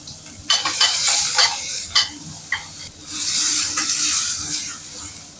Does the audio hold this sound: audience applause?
no